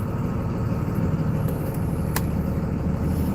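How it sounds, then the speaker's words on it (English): A car engine idles in a steady low rumble from inside the cold car, loud and close, with a couple of faint high clicks over it. "I gotta turn the car back on."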